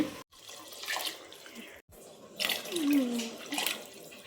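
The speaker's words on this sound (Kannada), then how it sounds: "4 ಗ್ಲಾಸಷ್ಟು ನೀರು ಹಾಕಿದ್ದೀನಿ" Cooking water saved from boiling chickpeas is poured into rice in a pot, making soft, uneven pouring and splashing sounds with short gaps.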